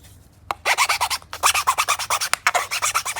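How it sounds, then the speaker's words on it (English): A plastic part is sanded by hand in quick back-and-forth rasping strokes, with a steady rhythm of about six strokes per second, heard close up with no talk. "I'll give that a sand first."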